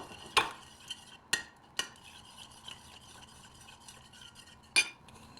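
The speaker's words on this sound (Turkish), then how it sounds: "Güzelce karıştırıp krem haline gelmesini sağlıyoruz." A spoon stirs tomato paste and warm water in a small Turkish coffee cup, making faint, quick clinks against the cup over a soft, steady scraping swirl.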